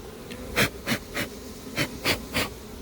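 A honeybee swarm being rehoused from a cardboard box into a hive gives off a series of separate short buzzing bursts, about six in under three seconds, close by and fairly faint.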